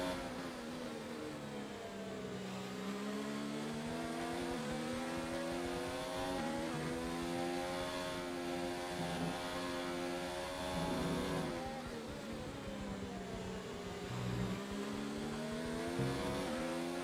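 An F1 car engine in the F1 2019 racing game screams through high revs, its pitch sweeping up and down with each gear change as it accelerates, loud and steady throughout, with no voices.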